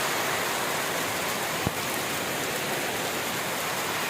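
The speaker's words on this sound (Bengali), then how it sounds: "প্রচণ্ড বৃষ্টি।" Heavy rain pours down in a dense, steady hiss that fills the whole stretch, with one brief sharp knock partway through and no voices.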